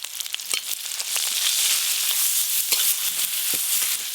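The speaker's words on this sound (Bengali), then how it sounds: "সর্ষের তেল, 5 ফোড়ন আর শুকনো লঙ্কা দিয়ে ফোড়ন করে নেব" Five-spice seeds and dry red chillies tempering in hot mustard oil, with a steady, loud hiss of sizzling and a few crackles and scrapes at the start, close by and without any talk.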